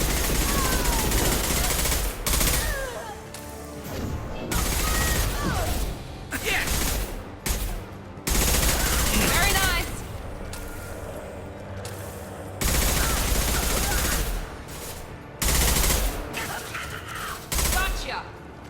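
Heavy gunfire from a Mass Effect 2 firefight, with loud bursts and rapid volleys recurring throughout, broken by brief lulls, while a voice talks over the shooting at times.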